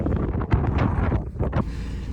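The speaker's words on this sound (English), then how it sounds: "It's so cold because it's windy as well." Strong wind near the Arctic Circle in Alaska, buffeting the microphone with loud, uneven rumbling gusts and a few sharper blasts, with no talking.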